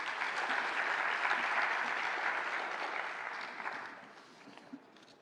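Clapping from a congress audience at a labor law event, sustained and even for a few seconds before thinning and tapering off into scattered claps near the end.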